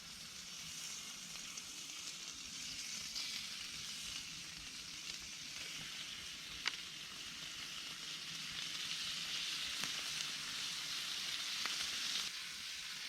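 Bacon sizzling and frying in a pan at a solo camping cookout, a steady bright hiss that swells slightly toward the end, with a few faint clicks and taps over it.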